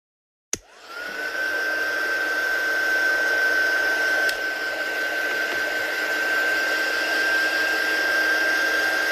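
A handheld craft heat or drying tool blows air over a stamped painting, starting with a click and then a loud, steady whine with an even tone that runs continuously.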